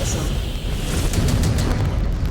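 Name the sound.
missile launch and explosion in the video game MechWarrior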